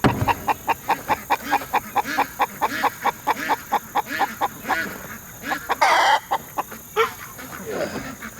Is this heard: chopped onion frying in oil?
no